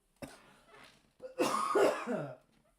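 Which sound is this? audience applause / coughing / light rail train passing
coughing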